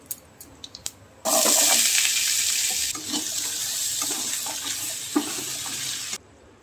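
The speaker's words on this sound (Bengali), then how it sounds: "কালো জিরে কাঁচা লঙ্কা ফোড়ন দিয়ে আজকে আলুর তরকারিটা বানাতে" Potato curry frying in a pan with a tempering of nigella seeds and green chilli, a loud sudden hiss and sizzle after a few faint clicks, steady for about five seconds with occasional stirring pops, then cut off.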